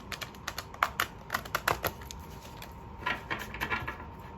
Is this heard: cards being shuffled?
yes